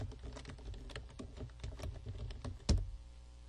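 Rapid keystrokes on a computer keyboard as a report title is entered, a steady run of close, crisp clicks with one louder key thump near the end, no talking.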